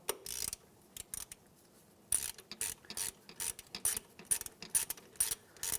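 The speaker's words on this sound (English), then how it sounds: "We're just going to tighten that, snug it, tighten it, give it an extra little quarter turn" Ratchet wrench tightening a 10mm bolt on a 2003-2011 Honda Element while a serpentine belt tensioner is replaced, rapid clicking pawl bursts repeated in short strokes with brief pauses between, close and clear.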